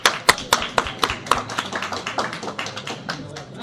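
A few hands clap in a small debate audience: several sharp, distinct claps at first, then a quicker, softer patter of scattered clapping that keeps going evenly to the end.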